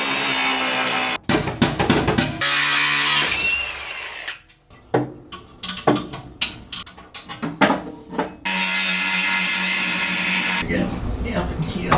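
A power tool cuts out the fuel cell of a Honda-powered Porsche, running loud and steady, then stopping and restarting in short bursts with sharp hits before a long continuous cut.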